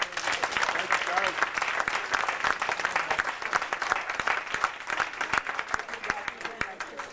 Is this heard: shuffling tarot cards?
no